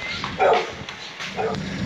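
A neighbor's dog lets out a couple of short yips or barks close by at a gate, with a brief pause between them, over faint outdoor background noise.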